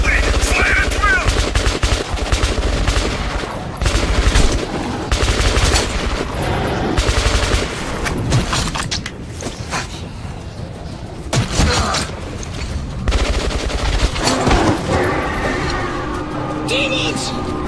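Intense gunfire in a Metro video game cutscene: repeated bursts of automatic fire and loud shots come in waves, mixed with shouting voices and some quieter pauses between volleys.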